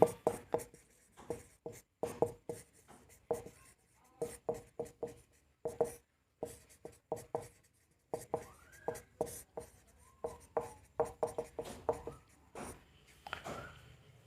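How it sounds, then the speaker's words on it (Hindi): Someone writes on a board during a classroom lesson on assessment and evaluation. Close, dry scratching strokes come in quick irregular bursts throughout, broken by brief pauses between words. "यहाँ लिखेंगे"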